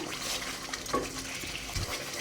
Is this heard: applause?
no